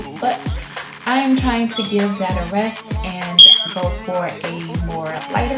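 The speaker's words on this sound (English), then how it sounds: "Excuse the beeping in the background, that is my fire alarm." Household fire alarm chirping for a new battery, a short high beep heard once behind someone talking steadily up close.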